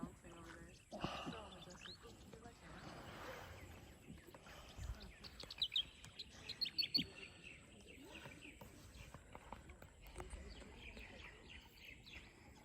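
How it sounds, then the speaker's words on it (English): Small birds chirp faintly around a lake seen from a rowing boat on Chandubi lake, with scattered tweets over quiet, rustling background noise and soft, indistinct voices. "Hear the birds."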